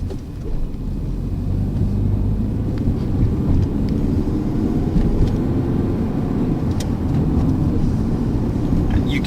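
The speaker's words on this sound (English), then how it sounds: "You can hear the engine start to get louder and louder" A manual car's engine rumbles steadily and builds as the clutch is let out in first gear, a continuous low drone with wind noise over the microphone.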